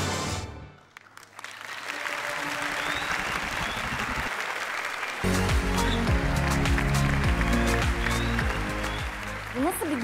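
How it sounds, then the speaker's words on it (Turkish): Studio audience applause on the Turkish singing competition O Ses Türkiye, a loud sustained crowd clapping that rises near the start and holds steady, with music joining under it midway. "Alkışlarınızla Beyaz'ın takımından Havin, Sıla ve İlayda geliyor."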